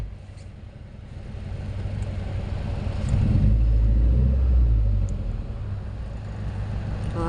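A stopped car's engine is left idling with a low, steady rumble that swells louder for a couple of seconds in the middle before settling back to a quieter hum.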